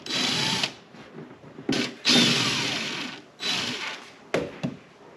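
A power tool backs out small plastic Phillips-head screws from the fender liner of a Lotus Emira, making several close, loud whirring bursts separated by brief pauses.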